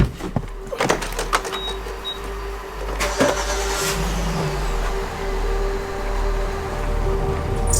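A car on a road trip hums along with a low steady engine drone, a few clicks and thumps inside the cabin early on and a brief whirr like a power window.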